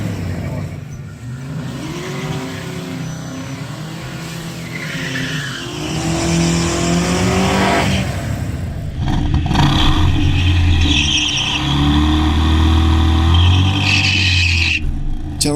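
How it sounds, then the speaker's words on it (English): A V8-swapped BMW M3 doing a burnout at a drag strip, its engine revving hard and loud as the tires spin and squeal in a sustained roar, with a brief lift and rise partway through. "I got the hang of it and was able to spin the tires"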